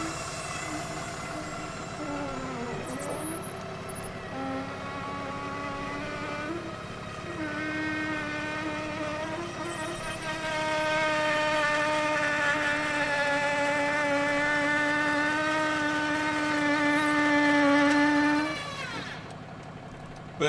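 Steady idling engine of a 2024 Dynamax ISATA 5 overland expedition vehicle, a continuous even drone with a stable tonal hum that rises slightly in loudness midway, then eases near the end, with no talking over it.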